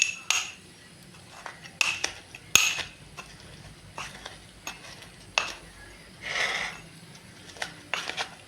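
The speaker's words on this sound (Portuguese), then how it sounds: "Então vamos fazer essa pisagem aqui do alho." Garlic is crushed in a kitchen with a utensil, giving sharp, irregular taps and clinks, close and moderately loud, with a brief scraping burst partway through and no voice.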